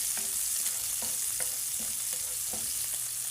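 Pork and garlic sautéing in a pan, a steady, close sizzle with a few light stirring clicks at irregular intervals.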